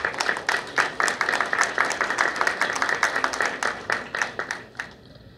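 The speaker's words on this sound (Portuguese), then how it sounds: "Uma salva de palmas." A modest round of applause in a university council meeting, scattered hands clapping in a quick irregular rhythm at moderate level, then thinning out and stopping near the end.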